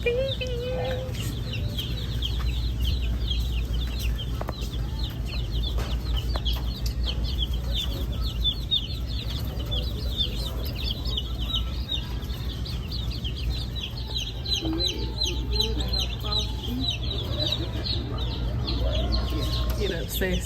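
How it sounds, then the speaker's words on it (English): Dense, constant high cheeping from a crowd of baby chicks in a brooder at a seed and feed store, with low hum from the room underneath and occasional louder fowl calls. "Oh, look at the babies."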